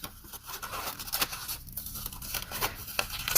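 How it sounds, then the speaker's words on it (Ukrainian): Scissors snip through paper while a bird shape is cut out, a run of short crisp cuts and rustles heard close and fairly quiet, with no one talking. "Зробили надріз, ножиці занурили"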